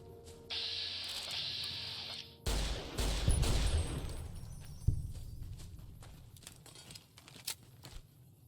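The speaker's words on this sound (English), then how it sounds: "I hear gunfire." A burst of rapid gunfire crackles for a couple of seconds in heavily modded Fallout: New Vegas, followed by a few scattered single shots and clatters amid a synthetic game backdrop.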